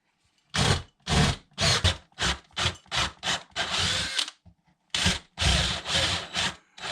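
Power drill boring 10 mm holes in wood for threaded inserts, a series of short loud close grinding bursts of about a second each, separated by brief silences.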